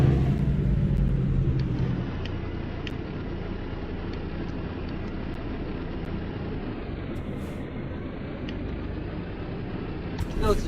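Peterbilt 350 truck engine in American Truck Simulator, running in automatic mode under a hardcore economy job, a low steady droning rumble that holds even and continuous throughout, with occasional faint clicks above it.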